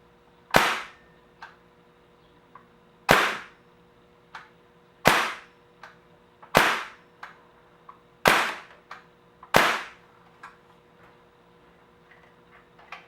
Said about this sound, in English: the M1A1 can be shot in semi or full auto mode